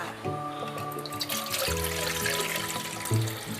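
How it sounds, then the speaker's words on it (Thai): Water is poured into a cooking pot, a continuous splashing trickle with faint ringing tones from the metal pot shifting as it fills. "เติมน้ำลงหม้อค่ะ"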